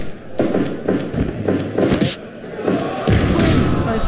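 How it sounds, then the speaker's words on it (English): A wrestler is thrown to the mat with a belly-to-belly suplex at a CanAm Wrestling event, giving several heavy thuds and slams in quick succession over a loud, steady crowd roar. "There's a belly-to-belly suplex by Retrospector."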